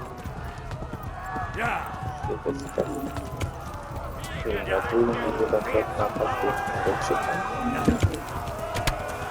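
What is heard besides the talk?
horse hooves in the video game Kingdom Come: Deliverance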